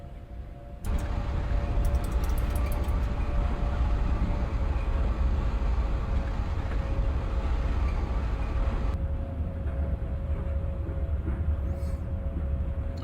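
Simulated Manchester Metrolink tram heading from Altrincham to Bury in Microsoft Train Simulator: a steady rumble of motor and wheels starts abruptly and runs continuously, with a brief rattling clatter early on, then eases toward the end.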